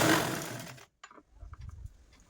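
A sewing machine stitches a zip and lining together on a bag with a dense, fast rattling whir, then stops abruptly, leaving faint handling clicks and rustles.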